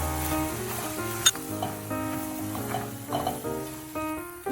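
Brown sugar and pecans cook in a pan, giving a soft sizzle and occasional stirring scrapes and clinks. The sounds are close but quiet, with music playing over them and no talk.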